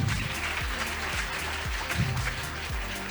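Students at a toppers' celebration give their parents loud, sustained applause, a dense clatter of many hands clapping with a few sharp individual claps standing out, continuing steadily to the end.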